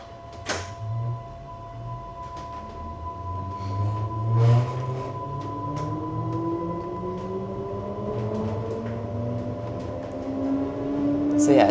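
Electric motors hum and whine with rising tones as an old converted Tube train pulls away on battery power on a Welsh border railway line, over a low rumble of wheels on track, with a few clicks and knocks and a voice speaking nearby.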